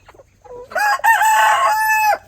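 Barred Rock hens in a coop let out a loud, drawn-out squawking call right up close, rising and holding for about a second and a half before cutting off.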